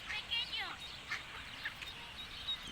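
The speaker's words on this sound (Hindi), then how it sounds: "ये आ गए हैं छोटे छोटे बच्चे जो हैं बतखों के" Faint, high-pitched peeping and soft quacks from ducklings come in scattered bursts over a low background hiss.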